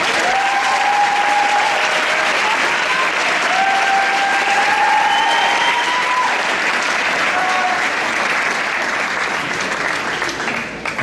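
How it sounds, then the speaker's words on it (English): Crowd at a school fall sports awards ceremony claps steadily and loudly throughout, with faint whistles or cheers above the continuous applause. "Please give a round of applause to Michael Charbonneau."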